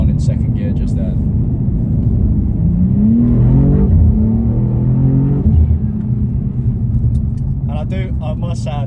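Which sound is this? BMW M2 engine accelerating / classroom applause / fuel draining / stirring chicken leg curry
BMW M2 engine accelerating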